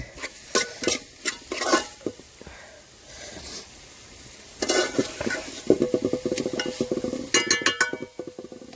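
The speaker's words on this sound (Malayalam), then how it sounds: "നന്നായിട്ടൊന്ന് ഇളക്കുക" Curry being stirred in a cooking pot in a Kerala village kitchen, bursts of scraping and clattering strokes with soft sizzling between them, close and fairly loud, no talking.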